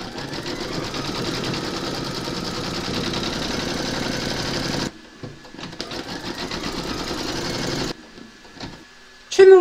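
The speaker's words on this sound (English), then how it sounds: "Load your thread colour for the beard into your machine if you need to, and then you're going to stitch round number 8" An embroidery sewing machine stitches the beard outline of a gnome quilt block in silver thread, a loud steady mechanical hum with a rapid needle rhythm, then it stops, leaving quieter handling sounds and a brief final clatter.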